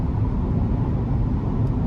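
A 2023 Chevy Colorado Trail Boss pickup with a 2.7-liter turbo four-cylinder hums at a steady cruise from inside the cabin, a low, even drone mixed with road rumble.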